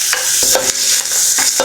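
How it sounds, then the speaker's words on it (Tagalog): Two medium onions sautéing in about two tablespoons of oil for Filipino igado, a steady bright sizzle broken by several soft scrapes of stirring throughout, close and loud. "Lagay ko na po yung dalawang medium size na sibuyas."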